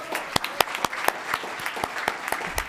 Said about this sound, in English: Let's give one more round of applause for Bob and Pat